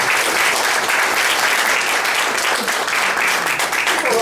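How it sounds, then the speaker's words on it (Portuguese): A congregation at a church campaign gathering in Canoas claps loudly and steadily, with dense, sustained applause filling the whole stretch at close range. "Dá uma salva de palmas para eles aqui."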